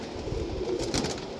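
A pigeon coos briefly and softly up close, a low murmuring call over a faint background hum.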